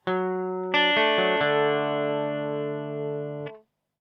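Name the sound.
guitar playing verse bars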